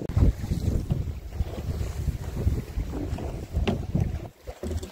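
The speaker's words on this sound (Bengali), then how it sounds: "নদী উত্তাল আজ, বর্ষাকালের মতো। বাবা, এই মানে উত্তরে হাওয়া শুরু হয়ে গেল না?" A strong north wind roars over a rough, choppy Sundarbans river beside a fishing boat, with heavy gusts battering the microphone and waves slapping close by, continuous and loud without speech.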